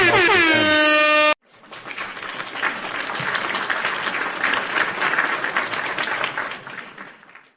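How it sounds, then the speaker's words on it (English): A short blast of layered air horns is cut off abruptly, followed by several seconds of a full crowd round of applause, dense clapping that swells and then tapers out. "So air horns and round of applause for them."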